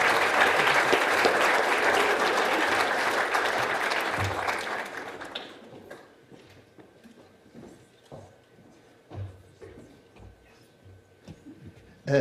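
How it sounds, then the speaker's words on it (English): Audience applause at a scholarship ceremony, a loud dense burst of clapping that fades after about five seconds into scattered claps and quiet room noise. "Round of applause"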